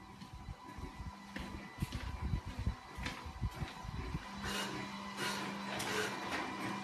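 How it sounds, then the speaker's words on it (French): A minilab photo printer runs steadily through a print job, giving off a continuous mechanical whir with a low hum and intermittent clicks and rustles as photos are fed and printed, heard close up with no talking. "l'imprimante elle est déjà en train d'imprimer"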